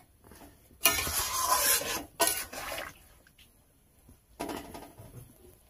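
Tilapia curry broth with eggplant boiling in a pot, coming in several bursts of close bubbling and watery hiss separated by near-quiet pauses.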